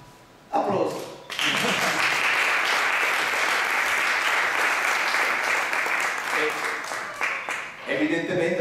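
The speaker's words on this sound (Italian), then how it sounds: "Applausi" Audience at a sports TV award ceremony breaks into steady, dense applause that swells in quickly, holds loud and even for several seconds, then dips before a voice returns.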